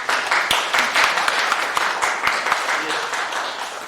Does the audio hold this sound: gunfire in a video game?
no